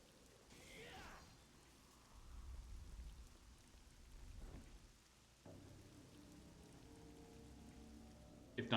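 Rain and thunder from the video game Devil May Cry 3: steady rainfall runs throughout, with deep rolling thunder swelling a few times in the first half before a sharper crack near the end.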